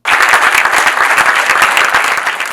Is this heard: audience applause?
yes